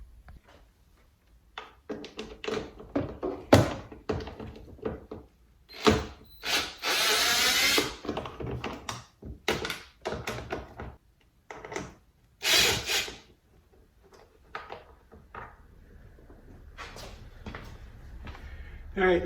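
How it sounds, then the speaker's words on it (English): Impact driver zipping plastic fasteners off the engine cover of an E90 BMW 328i with an N52 engine, heard as several short buzzing bursts with clicks and rattles of parts between them, close by. "I'm using the impact here, but be gentle if you got one. They're just little fasteners in the plastic"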